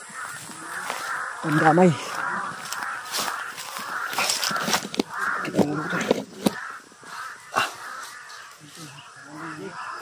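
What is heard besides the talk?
crows cawing after being startled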